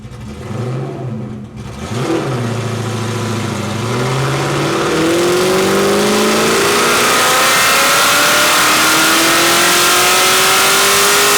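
A Ford Mustang Foxbody engine revs on a dyno during a full pull, a loud close roar with pitch climbing steadily for over ten seconds as the rpm rises.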